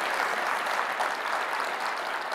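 Audience at a talk on education and school reform breaking into applause, a dense, even patter of many hands sustained throughout at moderate volume.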